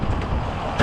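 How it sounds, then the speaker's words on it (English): Wind buffeting a microphone outdoors, a steady low rumble and rush that fills the short stretch, swelling slightly at the end. "There's that wind."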